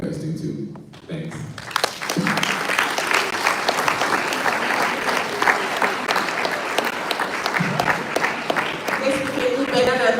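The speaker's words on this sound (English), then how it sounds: "Let's give him a round of applause." A youth convention audience breaks into applause after a talk, dense clapping from a large crowd rising after a brief lull and sustained for several seconds, with a voice briefly speaking over it.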